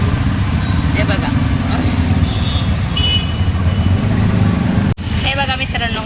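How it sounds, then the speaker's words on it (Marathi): Dense, heavy road traffic in Hinjewadi, heard from inside an auto-rickshaw: a continuous loud rumble of engines and road noise, with scattered horn toots over it and a brief dip near the end. "हे बघा ट्रॅफिक हिंजवडीचं भरपूर ट्रॅफिक आहे"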